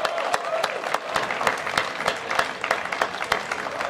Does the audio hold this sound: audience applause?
yes